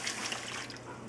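Water pours into a pot of lentil sloppy joe ingredients, a steady splashing trickle heard up close on its own for about a second.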